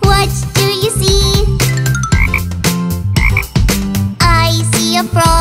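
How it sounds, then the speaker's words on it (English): Cartoonish frog croaks in a toddler nursery rhyme, a steady ribbit rhythm over bright musical backing, loud and close throughout with no talking. "I see a frog. Ribbit, ribbit, ribbit."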